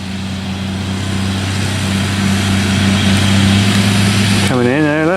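A New Holland farm vehicle engine at a maize harvest drones loudly and steadily with a low hum, while a voice speaks over it near the end.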